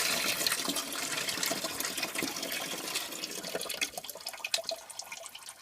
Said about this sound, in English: That water coming out of that radiator looks disgraceful.